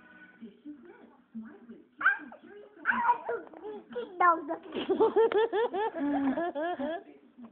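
A voice imitates an angry dog, growling and then breaking into a string of rhythmic yipping barks that grow louder and more rapid, close to the microphone.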